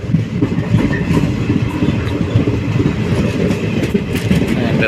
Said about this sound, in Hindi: प्लेटफॉर्म की तरफ जा रही है ट्रेन